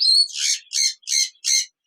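Parrots calling in an aviary: a short shrill whistle followed by four evenly spaced harsh squawks, loud and close, with no talking.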